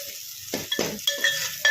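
Sliced onions frying in oil over slow-medium gas until golden, with soft sizzling broken by close stirring scrapes and light clinks of a spoon against the pan.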